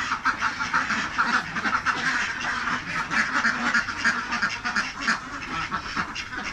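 A large flock of farmed ducks quacks continuously at a duck farm, a dense overlapping chorus close by and steady throughout, with no speech.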